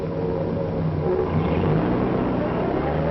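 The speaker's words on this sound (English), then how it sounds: "He shifts gears." A 1946 bus pulls away from a stoplight and shifts gears, its engine a steady, loud, close rumble and whir with no break throughout.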